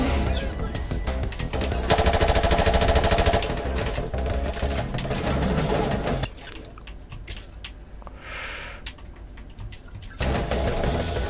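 Rapid automatic gunfire from Call of Duty 4: Modern Warfare Remastered, loud dense bursts of machine-gun fire that ease to a quieter stretch of sparser shots midway before the heavy firing resumes.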